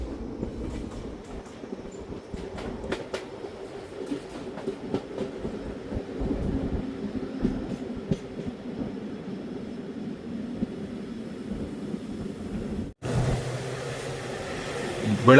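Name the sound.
train entering Kyathsandra railway station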